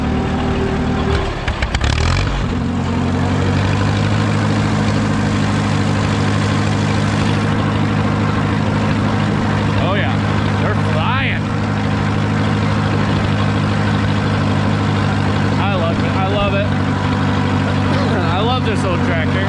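An old tractor engine runs in first gear with a steady, loud low rumble and strong harmonic drone throughout, a brief louder rev near the start, and someone talking over it at times.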